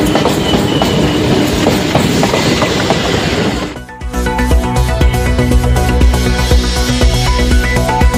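A suburban train on the Chennai Beach–Tambaram line runs loudly along the tracks, a dense roar that shifts midway into rhythmic clickety-clack wheel beats with metallic ringing.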